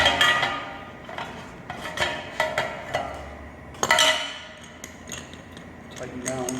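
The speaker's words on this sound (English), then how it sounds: "Tighten down the nut." Metal nut being tightened down on the cap of a solvent keg, a series of close sharp metallic clanks and scrapes at irregular intervals, with one louder clank near the end of the sequence.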